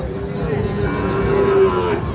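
Sahiwal calves and cattle at Ambari market in Dinajpur give a single sustained moo over a background of crowd noise.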